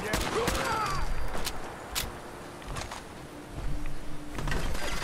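Single-shot assault rifle firing in Fallout 4, several separate sharp shots spaced unevenly and mixed with other game noise, moderately loud against a busy background.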